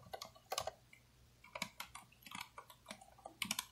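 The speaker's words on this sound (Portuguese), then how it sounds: "ele tem a Switch Cherry MX Silent Red. O que, que isso significa? Que ele é muito silencioso" Quiet, soft typing on a Corsair Strafe mechanical keyboard with Cherry MX Silent Red switches, irregular bursts of muted key presses close to the mic with brief pauses between.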